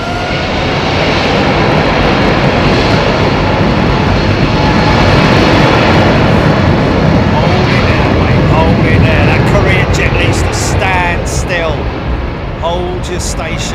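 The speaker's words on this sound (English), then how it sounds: "Lovely looking jet there." A jet airliner taking off from Heathrow Airport in the evening, its engines a loud, sustained roar that swells and then thins slightly as it climbs away, with voices underneath.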